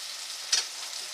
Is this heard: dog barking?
no